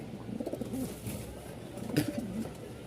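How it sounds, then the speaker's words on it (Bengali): A pair of Lahori Sirazi pigeons at a pigeon market in Mirpur give soft, faint coos in two short bursts over a low background hum. "মাত্র 1300 টাকায় পেয়েছেন আপনারা এই লাহোরি সিরাজি পেয়ারটা"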